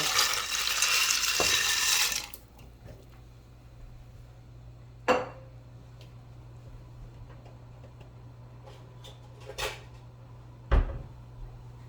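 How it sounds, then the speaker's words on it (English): A spoon stirs tricolor pasta in a pot of salted water in a home kitchen. A loud rushing burst comes first, then a few sparse, distinct knocks and scrapes against the pot over a quiet background. "Give it a nice stir."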